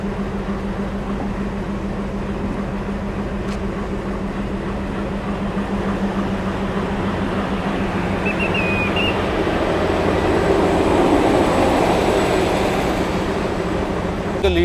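An express train is shunted at Kacheguda station with a WAP7 electric locomotive, a low steady rumble and hum that swells slightly toward the end.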